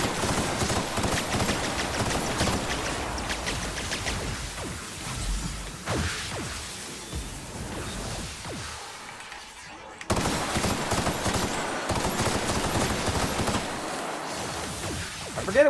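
Weapon fire in The Outer Worlds during the Peril on Gorgon DLC, a dense, continuous barrage of shots and impacts lasting throughout, with a brief drop near the middle before the loud firing resumes.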